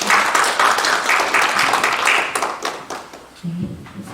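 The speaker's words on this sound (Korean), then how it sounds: "그럼 큰 박수로 맞이해 주시기 바랍니다." An audience at an academic research presentation applauds to welcome a presenter, a steady crowd clapping that fades over a few seconds as a voice begins speaking near the end.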